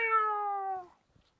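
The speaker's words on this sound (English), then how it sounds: "Meow." A single drawn-out meow, clear and steady, with a soft rustle after it fades.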